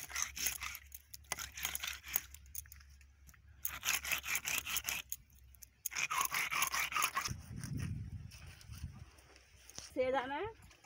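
Scales being scraped off a fish make repeated bursts of rough, scratchy rasping, each lasting about a second. Short pauses fall between the bursts, and a low voice murmurs beneath them.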